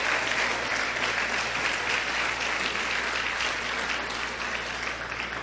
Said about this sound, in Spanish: Si va a aplaudir, dele, apláudale.